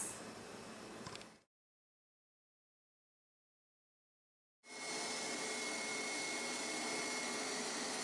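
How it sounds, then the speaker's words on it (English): A Hoover SteamVac All Terrain Max Extract F7452900 carpet cleaner runs with a loud, steady suction whoosh, cuts out into a few seconds of silence, then starts again and runs on evenly. "The SteamVac did an excellent job sucking up new spills."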